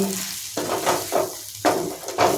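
Prawns fry in a pan with a steady sizzle while a utensil stirs them in rhythmic scraping strokes, close up and with no voices.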